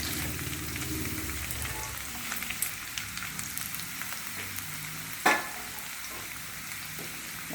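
Carrot and radish pieces frying in hot oil in a pan for homemade pickle, a steady crackling sizzle with stirring scrapes, and a sharp clack of utensil against pan near the end.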